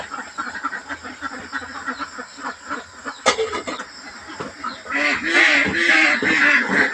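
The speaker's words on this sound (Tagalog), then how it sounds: "Mga itik ko, gusto nang lumabas." Ducks quacking eagerly as they wait to be let out to pasture, a steady chatter of nasal calls that swells into a louder, denser flock chorus near the end.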